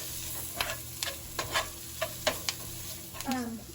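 A spoon works flour into melted butter for a sauce roux, giving a series of soft scraping strokes against the pan at an uneven rhythm over a faint background hiss, with a brief voice near the end.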